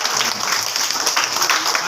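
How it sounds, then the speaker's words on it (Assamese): Schoolchildren clap their hands at a school twinning program event, a dense, steady patter of applause across the whole moment with faint voices beneath. "হাত চাপৰি দিয়া"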